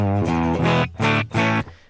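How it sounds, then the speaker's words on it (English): Electric guitar run through a Fender Bassman-style amp simulation in Ableton Live, giving a thick, growly, slightly distorted tone: three sustained chords with short gaps between them, close and loud, with no other sound. "what this amp kind of sounds like to me is like a Fender Bassman"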